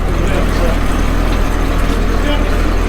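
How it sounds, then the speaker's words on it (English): A 1970 Ford wrecker tow truck engine idles steadily while warming up, with a low, constant rumble and faint mechanical chatter, continuous throughout. "Letting the wrecker warm up."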